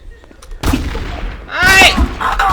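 Video game gunfire, a burst of sharp shots followed by a louder booming blast, loud and close, with excited voices talking over and around it.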